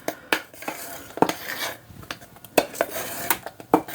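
A pot of homemade cranberry sauce is moved off a hot stovetop, giving scattered metallic clinks and scrapes of pan against burner, with faint bubbling in between, fairly close and with no talk.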